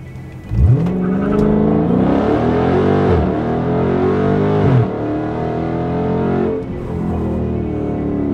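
A car with a muffler delete and drag radials does a hard 0-60 launch, its loud, raw exhaust roaring up through three gears with sharp pitch climbs and brief drops at each shift, then holding a steady drone.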